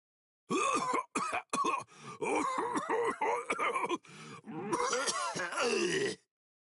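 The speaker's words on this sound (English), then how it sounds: "how long you gonna cough?" A voice coughs and groans repeatedly in harsh, strained bursts, close and loud, with short pauses between fits, in the video game Bleach: Rebirth of Souls.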